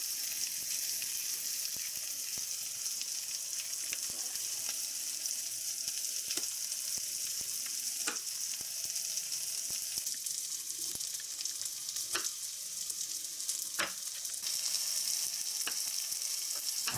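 Noodles and onions fry for a shrimp stir fry, a quiet, steady hiss of sizzling oil that runs unbroken, with a few faint clicks and taps now and then.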